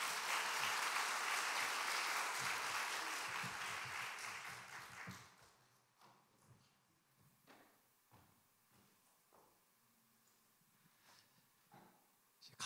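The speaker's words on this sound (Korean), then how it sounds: "박수로 한번 맞이해 주시길 바랍니다." A church congregation at a Jeju revival meeting greets the pastor with loud, full applause that holds for several seconds, then fades into scattered quiet shuffles and knocks.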